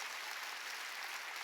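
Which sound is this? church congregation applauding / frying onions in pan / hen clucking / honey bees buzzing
church congregation applauding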